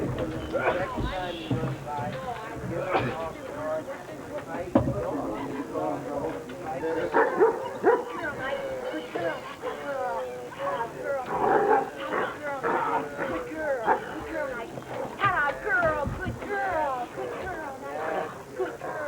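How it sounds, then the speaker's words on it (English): A dog barks and yips repeatedly on a recorded dog-training tape at a 1981 DVG seminar, the sound muffled and steady, mixed with people talking throughout. "when the barking goes on with the video"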